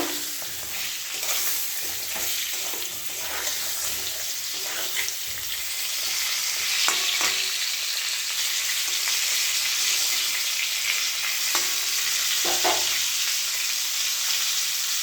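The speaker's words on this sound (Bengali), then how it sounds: "পটলগুলো ভালো করে ভেজে নেব।" Pointed gourd (potol) pieces fry in oil with salt and turmeric, making a continuous crackling sizzle broken by repeated scrapes and clicks from stirring.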